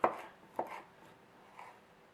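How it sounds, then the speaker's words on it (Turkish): Fine chopping of tomatoes with a knife on a cutting board for tabbouleh salad: a couple of soft, close knocks followed by quieter, more muffled strokes, faint overall and free of speech. "Domates de doğramak istiyorum."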